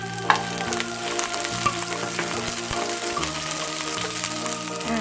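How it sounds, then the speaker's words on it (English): Dried sidra fish sizzles and fries steadily in an oiled pan for a Nepali gundruk soup, a dense continuous crackle close up with a few sharper pops and brief stirring sounds. "then add this dry fish,"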